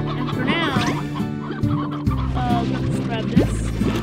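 Hens in the video game Slime Rancher, clucking and gobbling in repeated, overlapping calls over a steady hum of game background, with no speech.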